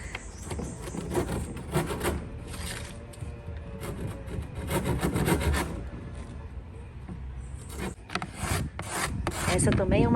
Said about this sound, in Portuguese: Essa também é uma lixa velha que Fausto guarda.